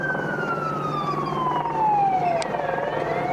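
A fire engine siren wails with a long descending sweep, loud and close, over steady traffic rumble.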